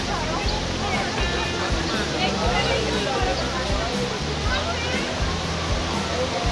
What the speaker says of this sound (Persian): چه آبشاریه، ملت ریختن.